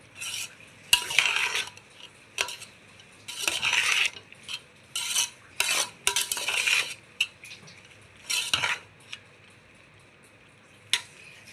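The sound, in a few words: mixing cooked rice for pulihara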